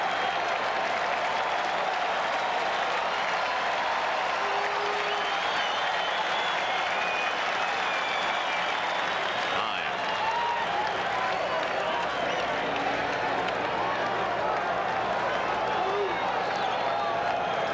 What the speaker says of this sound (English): Crowd really alive now, trying to root the Oil Can out of it.